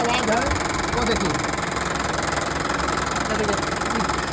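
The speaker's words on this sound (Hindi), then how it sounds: "रियल में इंजन से ही साउंड आ रहा है" A Suzuki Swift petrol engine runs with an abnormal noise, a steady close idle with a knocking, vibrating clatter under the bonnet, continuous and fairly loud throughout.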